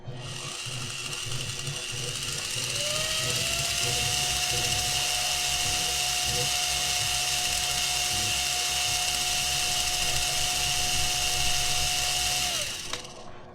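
A cheap upgrade motor spins the wheels of a Losi Micro B RC car, rising into a steady high-pitched whine that holds for about ten seconds before cutting off, loud and close.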